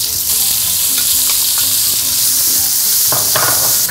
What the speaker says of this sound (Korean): 달달달달 볶으세요. 기름이 거의 녹을 때까지.